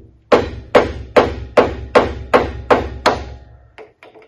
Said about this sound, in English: you can just take your hammer and simply tap on this and roll it around